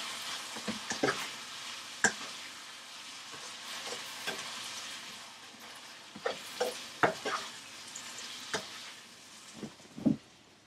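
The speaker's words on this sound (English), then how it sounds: "And give it a stir." Dryad's saddle mushrooms frying in a pan, seasoned with salt and pepper, under a steady quiet sizzle, stirred with repeated sharp scrapes and light knocks of a utensil against the pan; no speech.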